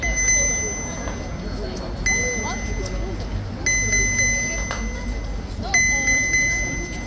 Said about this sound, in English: Apologies for the beeping sounds on my gimbal.